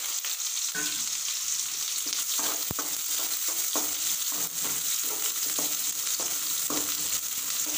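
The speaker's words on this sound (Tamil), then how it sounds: "இப்போ வெங்காயம் கருவு போட்டுக்கலாம்." Onions and curry leaves fry in hot oil for an egg curry, giving a steady, close sizzle with occasional stirring scrapes throughout and no voices.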